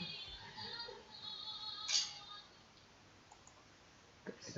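A few sharp computer mouse clicks while saving questions in a Kahoot quiz, one crisp click near the middle and another near the end, set against a quiet room hum.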